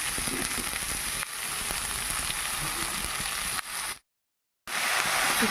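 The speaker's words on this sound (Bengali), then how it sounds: "এবার দিয়ে দিচ্ছি ঢেঁকি শাক।" Dheki shak fern greens sizzle in hot oil with slit green chilli, salt and turmeric, a loud continuous frying hiss that briefly cuts out before resuming.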